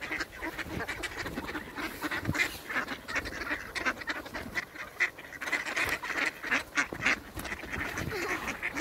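Ducks quack in a busy, overlapping chorus while being fed bread, the calls steady and fairly close throughout, with faint outdoor background noise.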